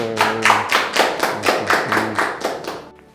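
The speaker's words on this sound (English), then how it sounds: "Clap for him." Roughly a dozen sharp, evenly spaced claps ring out close and loud, alone with no talking, tapering off at the end.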